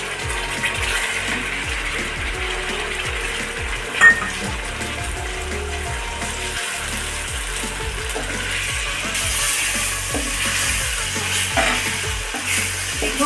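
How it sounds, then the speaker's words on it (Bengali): A ginger, garlic, pepper and whole cumin paste fries with mutton in a pan. It makes a continuous sizzle with a rhythmic scraping from steady stirring and one sharp clink partway through. "আমি এখানে দিয়ে দিচ্ছি, আবারও বলছি, আদা, রসুন, গোলমরিচ আর গোটা জিরে পেস্ট।"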